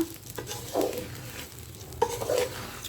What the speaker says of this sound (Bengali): আমার মোরগ পোলাওর চাল ভাজা হয়ে গেছে